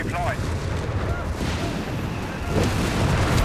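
Mortar fire in Company of Heroes 3, dense rumbling booms and impacts layered loudly over battlefield noise, with voices audible underneath.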